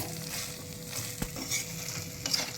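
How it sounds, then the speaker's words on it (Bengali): Minced meat for momo filling fries in a pan while being stirred, a continuous sizzle broken by a few scraping knocks of the spoon. "এই যে কিমাটা ভালো মতো ভাজা হয়ে গেছে।"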